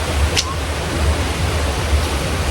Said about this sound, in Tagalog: Okay, malakas ang tubig.